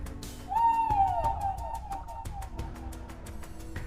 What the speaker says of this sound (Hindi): अचानक पास के पेड़ पर कोई उल्लू बोला